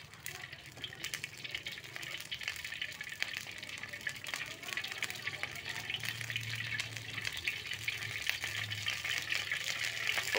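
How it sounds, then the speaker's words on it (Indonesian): Patin fish heads frying and being stirred in a pan, giving a steady, moderately loud sizzle with watery crackle throughout and faint background sounds. "kita aduk goreng, kita goreng ikan patinnya"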